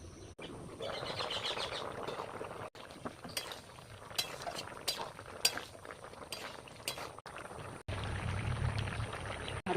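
Papaya boiled with rice is poured out of a pot in a home kitchen, with a soft, intermittent pouring and scraping and light clinks of metal utensils against cookware, heard close and fairly quiet.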